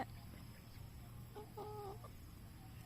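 A single chicken gives a short clucking call against a quiet, hushed background.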